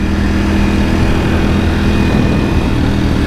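A Ducati Panigale V4S motorcycle engine rumbles loud and steady at constant speed, a dense continuous roar with wind noise under a bridge across Tokyo Bay, no talking.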